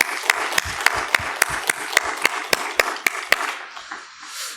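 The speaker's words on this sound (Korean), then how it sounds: "큰 박수로 격려하길 원합니다" In a church service, a small congregation claps in an even, measured beat, about a dozen sharp distinct claps at a regular pace that taper off and fade near the end.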